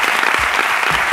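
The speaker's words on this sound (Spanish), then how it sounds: "Un aplauso para Carlo Padial, que está ahí" Steady, dense applause from an audience, many hands clapping together without pause.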